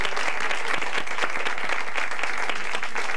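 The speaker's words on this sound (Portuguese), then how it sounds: "Então vamos bater uma salva de palmas." A studio audience on a Portuguese television comedy show gives a loud, dense round of applause, many hands clapping close and continuous throughout.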